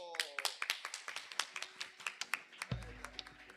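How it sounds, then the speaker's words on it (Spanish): Scattered hand clapping from an audience after a folk dance group's performance, a rapid run of sharp claps for several seconds, with a low sustained tone entering near the end. "Y el aplauso"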